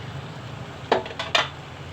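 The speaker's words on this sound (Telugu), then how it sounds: "మూత పెట్టుకుందాం." A metal lid set onto a pot of gongura curry with tamarind juice, giving a few close clattering knocks over a low steady kitchen hum.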